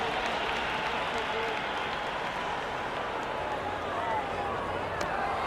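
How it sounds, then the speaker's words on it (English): A stadium crowd in the video game Cricket 26 roars and applauds during a Pakistan versus USA match, a loud, continuous wash of cheering and clapping with a commentator's voice talking over it. "The crowd is electric right now."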